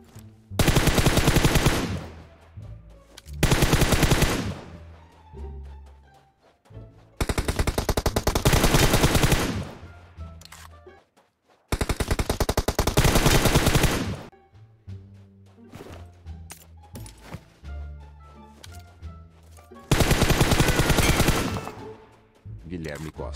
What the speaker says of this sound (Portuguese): Só dá spray assim, ó, um pouquinho de longe